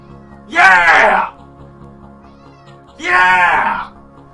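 A cat gives two loud, drawn-out meows close by, each about a second long and separated by a short pause, with a faint hum underneath.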